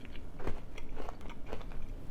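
Close crunchy bites and chewing of a mini haystack candy, several crisp crackling bursts in an irregular rhythm, fairly quiet with no talking.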